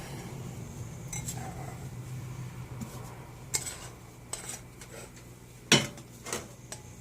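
Keto cookie crust is dumped into a large pie pan and patted flat, with soft scattered bumps and taps, a couple of sharper clinks of pan or utensil, fairly quiet and close.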